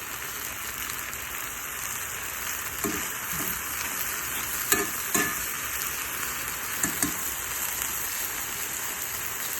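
Marinated bulgogi beef fries in a pan over medium-high heat, giving a continuous close sizzle with a few scattered pops and scraping taps.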